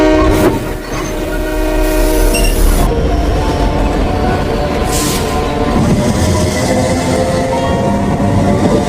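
Sangkara passenger train pulling away on a new line, its horn sounding loud and close over steady rolling rail noise and rumbling wagons, with a second blast a few seconds in.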